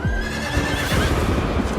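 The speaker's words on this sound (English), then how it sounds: "And the fucking horse." Horse whinnying in the game Diablo, a loud close neigh with hoof clip-clop underneath, heard alone.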